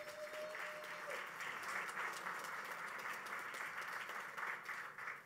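Loud, dense applause from a big crowd at a Hackfest Canada security conference talk, steady clapping that fills the hall throughout with no one speaking over it.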